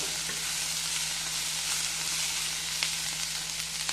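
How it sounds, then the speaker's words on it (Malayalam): Capsicum and onion sizzle and fry steadily in a pan as they are stirred, a close, continuous crackle with occasional scrape of the spatula and no talking. "ക്യാപ്സിക്കം ഇട്ടതിന് ശേഷം ഒന്ന് നമുക്കത് ഇളക്കി കൊടുക്കാം."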